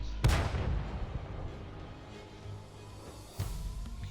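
Two heavy artillery shell impacts in World of Tanks, a sharp loud boom near the start and a second one near the end, each with a rumbling decay under continuous low battle noise.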